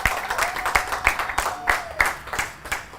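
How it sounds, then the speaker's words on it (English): An audience at a Cameroon blogging event applauds, sparse uneven hand claps from a small group nearby, fairly loud and irregular, without talk over them. "The audience, can you clap for yourselves"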